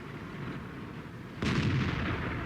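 A tank cannon fires once in World of Tanks, aimed at an E 100 tank destroyer: a sudden loud boom about midway, with a rumbling tail fading over the rest of the moment, after a steady low battle ambience.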